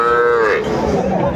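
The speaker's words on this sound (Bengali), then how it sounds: "সবগুলাই ষাঁড় বাচ্চা," Bull calves at a cattle market haat in Aftabganj low and moo in a loud, drawn-out call close by, with faint crowd murmur behind.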